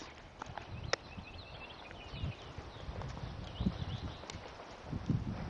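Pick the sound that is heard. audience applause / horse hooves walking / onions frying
horse hooves walking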